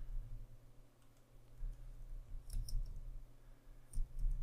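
Clicking keystrokes on a computer keyboard as a command is entered in PowerShell, a few scattered taps over a steady low background hum, fairly close and quiet.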